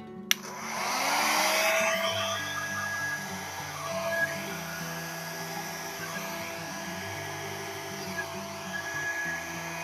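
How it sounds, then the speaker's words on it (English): A hair dryer blows continuously on poured acrylic paint with cell activator. The whirring hum is close and steady, with a slight swell early on and small shifts in pitch as it moves. "then I'm going to use the hairdryer to blow it out"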